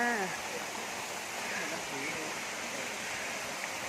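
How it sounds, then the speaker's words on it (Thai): A waterfall with low water flow on a mountain trail, heard as a steady, even rushing wash from a short distance, with faint voices and a brief bird call near the start. "ถึงที่น้ำตกค่ะ"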